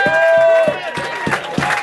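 A crowd at a freestyle rap club claps and cheers loudly, with whoops rising over the applause while a voice carries a sustained tone at the start.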